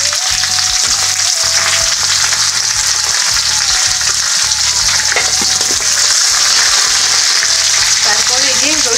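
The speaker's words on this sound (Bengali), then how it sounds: "এখন আমি ভালোভাবে এগুলা নেড়ে ভাজা ভাজা করে নেব" Onions fry and sizzle loudly in a pan as they are stirred. The close, constant frying hiss carries over faint scraping and a little background noise.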